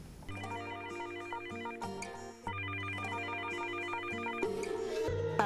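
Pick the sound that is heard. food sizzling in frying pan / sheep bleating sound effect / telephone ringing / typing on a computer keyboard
telephone ringing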